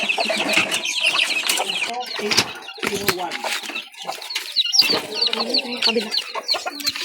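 Chickens cluck repeatedly and close by around newly hatched chicks, with high peeping chirps, occasional wing flaps and brief voices in the background.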